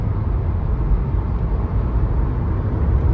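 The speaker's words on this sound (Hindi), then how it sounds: "अभी ट्रैफिक नॉर्मल है। दिल्ली जितना शोर नहीं है।" City road traffic on a Dubai street: a steady, dense rumble of passing cars and engines, continuous and fairly loud throughout, with no talking.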